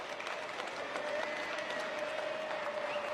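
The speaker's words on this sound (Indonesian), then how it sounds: "boleh tepuk tangan buat kedua mempelai" Wedding guests applaud the bride and groom, a brief, even patter of clapping from a crowd.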